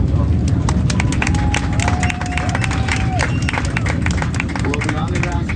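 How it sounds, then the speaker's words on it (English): Passengers aboard a Norse Atlantic 787 Dreamliner on an inaugural London to New York flight clap for the cabin crew. Scattered hand claps sound over the steady low roar of the cabin, with voices chattering throughout. "if we could get a round of applause for the cabin crew and their manager Joseph"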